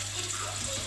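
Tap water running into a sink while green onions are washed, a steady close hiss of flowing water with a low hum underneath.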